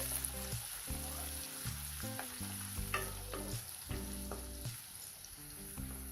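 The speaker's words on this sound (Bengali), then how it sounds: "তেলটা গরম হয়ে গেছে দিয়ে দিচ্ছি এটাকে হালকা ভেজে নিচ্ছি" Whole cumin and onion fry in hot oil with a quiet, steady sizzle, broken by irregular scraping and clattering strokes as they are stirred in the pan.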